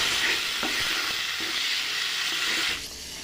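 Thick masala onion gravy for egg curry, with pressure-cooked onions added, is stirred in a hot pan. A continuous sizzling hiss comes with soft scraping strokes of the spoon, and it quietens abruptly near the end.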